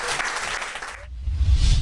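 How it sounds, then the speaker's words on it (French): Clapping from an audience at a French-language live broadcast, a dense, loud burst of applause that briefly drops away and returns with low crowd rumble. "Applaudissez bien fort le Seigneur."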